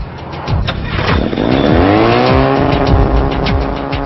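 Ducted fans on a Springtail powered-lift aircraft spin up into a loud, close, steady roar, with a rising whine of layered tones climbing in pitch over a few seconds.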